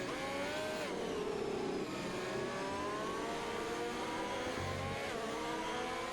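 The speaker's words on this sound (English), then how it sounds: "once Trevor gets his car revving back up" A racing car's engine revs and climbs in an auto racing video game at Abu Dhabi, a distant, fairly quiet whine rising in pitch over several seconds, alone without talk.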